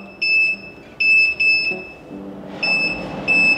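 A HUGA SR-7800B self-cleaning range hood control panel gives several short, pure, high electronic beeps in quick groups, close and clear over faint background noise.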